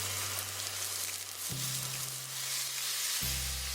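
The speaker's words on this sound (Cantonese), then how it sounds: "我哋要耐心少少，將豬肉嘅4面都煎到金黃色。" Pork pan-frying with ginger slices and garlic for Japanese chashu, a soft continuous sizzle with low hum in the background and no voices.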